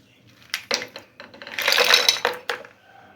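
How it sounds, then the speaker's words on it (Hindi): Ice cubes clatter and clink into a glass of peach juice in a few quick bursts, then a longer rattling tumble, close and fairly loud with no talking. "अब इसे मिक्स करें और अब इसके अंदर बर्फ़ डाल दें।"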